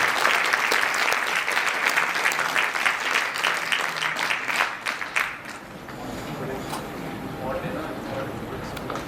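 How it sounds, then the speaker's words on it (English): Warm applause from a lecture audience greets a speaker at a medical talk, steady dense clapping that thins and fades toward the end. "heartfelt applause."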